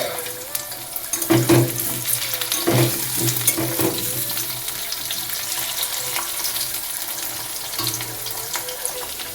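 Raw banana and pumpkin frying in oil in a pan, a steady close sizzle with a few louder bursts and stirring scrapes early on, no talking.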